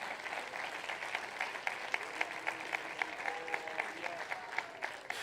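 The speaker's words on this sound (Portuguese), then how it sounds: "Pode aplaudir." Congregation clapping during a church sermon, a fairly rhythmic, moderately loud patter of hands with a faint crowd murmur and a voice briefly audible underneath.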